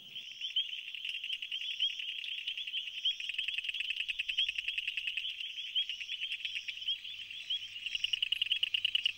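Greater leaf-folding frogs on reeds call in a dense, steady, rapid trill, a continuous chorus of fine pulsing chirps with no talking.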